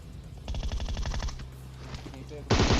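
Rapid bursts of automatic gunfire from the video game Free Fire, a steady rattling volley in the first half, then a louder burst at the end, with game sounds between.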